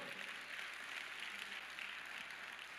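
A church congregation applauds in praise, a soft, distant, even spread of many hands clapping that holds steady without pauses.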